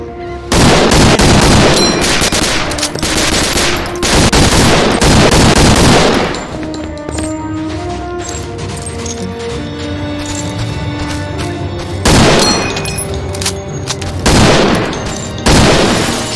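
Gunfire in the World War II shooter game Medal of Honor: Allied Assault, with loud rapid automatic bursts near the start and again toward the end, and a quieter stretch of music-like tones between them.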